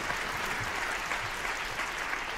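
A high school audience at a writers' event gives a round of applause, a dense, steady patter of many hands clapping at an even level, with no voices over it.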